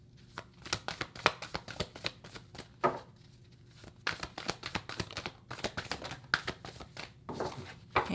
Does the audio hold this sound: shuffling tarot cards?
yes